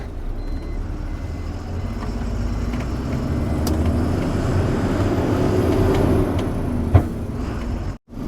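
A loaded lorry drives a narrow ghat road, its engine a loud, steady low drone close by, with a brief knock near the end before the sound cuts out sharply.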